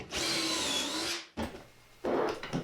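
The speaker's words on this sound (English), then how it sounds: "Now I can bring all my boards over to the Camera Jig where I'm going to start screwing the pocket holes." A power drill drives screws into wooden pocket holes, with one sustained whirring run followed by two shorter bursts, close and loud with no talking.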